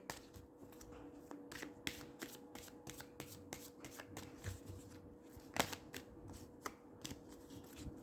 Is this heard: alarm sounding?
no